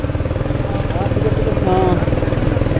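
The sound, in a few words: motorcycle engine idling high, Rusi Flash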